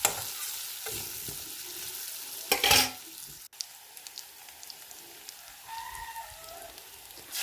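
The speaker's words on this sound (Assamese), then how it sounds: "আলুখিনি অলপ ৰঙচুৱা হওক লৈকে মই ভাজি থাকিম।" Potatoes fry with turmeric in a pan of oil for an Assamese fish curry, giving a soft, uneven sizzle with a louder burst of stirring clatter partway through, then quieter crackling and small scrapes.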